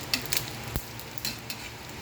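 Dried fish (tuyo) frying in a pan for breakfast, giving a faint, steady sizzle with a few soft clicks and ticks scattered through it and no voices.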